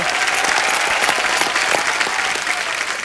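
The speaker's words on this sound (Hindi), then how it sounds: "जोरदार तालियां भी इनके लिए" Studio audience on a Hindi TV comedy show, The Kapil Sharma Show, breaks into loud, sustained applause, a dense even wash of clapping that fills the whole stretch with no one speaking.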